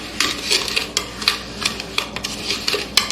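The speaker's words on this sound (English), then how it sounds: "I'm just going to get these dry ingredients stirring here" A spoon scrapes and clinks rhythmically against the sides of a pitcher as dry tea and sugar are stirred together for ginger tea, a series of close, bright swishing strokes with no voices.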